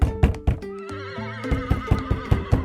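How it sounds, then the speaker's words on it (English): Horse whinnying in a children's farm-animal setting, loud and close, with rapid rising and falling pitched calls over a rhythmic clip-clop of hooves. "It's a horse."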